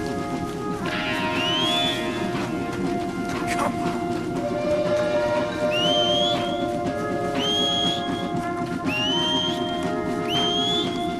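A player whistling for a horse in Red Dead Redemption 2, with rising whistles repeated several times over steady rain and ambient game noise; a voice speaks faintly underneath.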